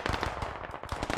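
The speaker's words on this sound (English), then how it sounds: "We're pinned down by small arms fire." Rapid bursts of small-arms gunfire from the SquadOps first-person shooter, loud and close, cracking in quick, uneven volleys with barely a pause.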